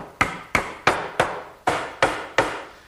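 Sharp wooden knocks as 2x4 garden bench slats are tapped together during glue-free assembly, seven evenly spaced hits about a third of a second apart, close and crisp with quick decay.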